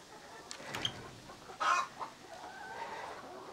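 A few soft clucks from a chicken, faint and scattered over quiet background noise.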